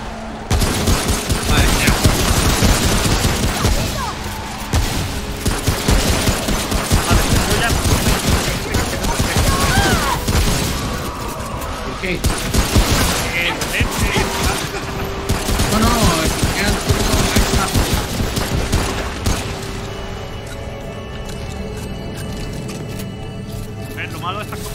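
Sustained machine gun fire with bursts of other weapons in the co-op shooter Remnant: From the Ashes, dense and loud throughout, with players talking over the shooting.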